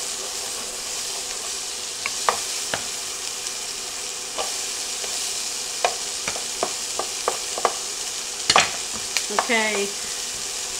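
Diced ingredients fry in a pan for a hash brown casserole, a steady close sizzle with occasional spoon stirs and scrapes, and a single brief word spoken near the start.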